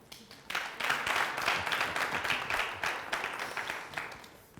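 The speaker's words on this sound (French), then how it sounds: "Merci de les applaudir." A television studio audience applauds for several seconds, a dense patter of many hands at moderate distance that swells in quickly and then gradually thins out.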